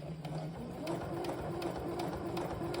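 A home sewing machine runs steadily, stitching fabric for a zipper bag with a back stitch and then a straight seam, a continuous close mechanical whir with faint rhythmic ticks and no pauses.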